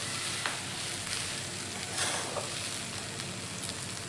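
Rice being stirred into spinach pulao in a pan, a steady soft sizzle and scraping hiss with faint clinks, continuous and fairly quiet with no talking.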